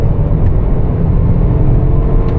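Full-throttle acceleration from a 2025 Ford Bronco Sport Big Bend with its turbocharged three-cylinder, heard from inside the cabin as a steady, loud low engine drone and road rumble with no talk.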